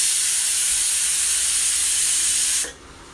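Steam hisses in a loud, steady broadband rush as pressure is released from a pressure cooker after making green chilli thokku, then cuts off sharply near the end, leaving near silence.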